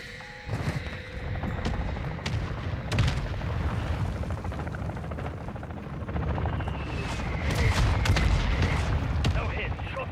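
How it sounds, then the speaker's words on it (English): Mortar strike explosions in a military video game, several heavy booms and sharp blasts spread over a rumbling background, with voices talking over them. "Mortar strike's running in on them. Mortar strike inbound."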